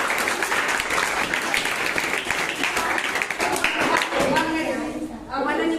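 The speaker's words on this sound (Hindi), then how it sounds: "सब ताली बजाओ।" Children clap and applaud during a maths workshop, a dense burst of many hands that goes on steadily and loudly, with an adult voice speaking over it near the end.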